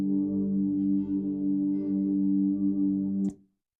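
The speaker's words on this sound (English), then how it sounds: "if you use the first and the fifth note, you get a pad that sounds like this" A droning synth pad built in Serum from the first and fifth notes holds a steady, thick sustained chord for about three seconds, then cuts off abruptly with a small click, no talking.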